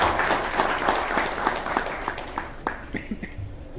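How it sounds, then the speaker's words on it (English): Dense applause from an audience at a sustainable energy forum, loud at first and then thinning into scattered individual claps as it fades. "Kindly give a big round of applause"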